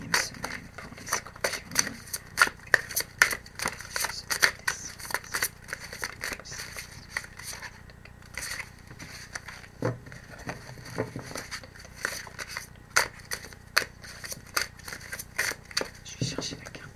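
Tarot cards being shuffled and handled, a dense run of quick papery flicks, snaps and crinkles close by that keeps going steadily with brief pauses.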